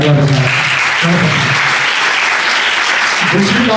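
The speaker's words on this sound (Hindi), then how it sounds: "इनके लिए जोरदार आप तालियां बजाएं" Loud, steady applause from an audience at a college induction program sports day, sustained throughout with a voice speaking over it at the start and end.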